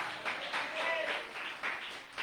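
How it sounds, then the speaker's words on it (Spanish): Church congregation applauding during a Spanish-language sermon, a faint, steady wash of many hands clapping in a reverberant hall, swelling in short bursts. "¿Cuántos aplauden ese nombre?"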